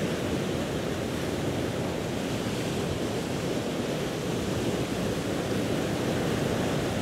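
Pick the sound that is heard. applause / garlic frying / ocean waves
ocean waves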